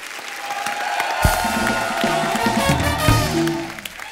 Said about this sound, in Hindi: एक बार जोरदार तालियां हमारे मेहमानों के लिए आई है भैया।